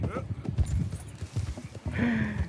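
Rapid clip-clop of horse hooves trotting close by in the video game Red Dead Redemption 2, with a short whinny near the end and voices talking over it.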